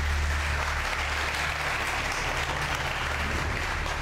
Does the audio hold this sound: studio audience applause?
yes